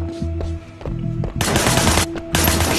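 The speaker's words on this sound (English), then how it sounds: "Shooting at the guys over there." Gunfire in the video game Sleeping Dogs, bursts of rapid automatic shots in two loud volleys after a few scattered single reports, sharp and close with no talking.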